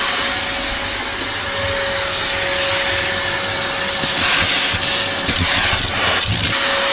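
A Hoover vacuum cleaner powered by a Jackery 1000 V2 portable power station, running loud and close with a steady whine and rushing hiss that grows rougher and scrapier partway through.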